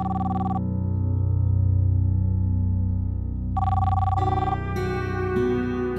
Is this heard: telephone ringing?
yes